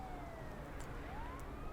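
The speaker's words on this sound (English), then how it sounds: "you can hear the sirens." Police sirens wail in a post-apocalyptic survival shooter game, thin rising and falling tones far off over a steady low ambient rumble, no voices.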